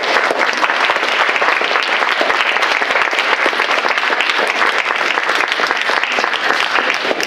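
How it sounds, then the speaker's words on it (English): An audience at a Peace Jam Northwest panel gives a sustained round of dense applause, loud and even from start to finish with no voices over it. "so we will share another round of applause with you."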